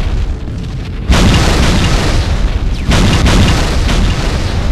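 Life pods explode in a Halo Custom Edition campaign as a sudden deep boom gives way to a sustained roaring rumble, then a second blast hits about two seconds later, loud and unbroken.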